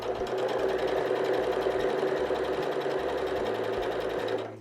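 A sewing machine stitches fabric along a curve in a fast, steady mechanical chatter that runs continuously, close and clear, then cuts off at the very end, with no voices.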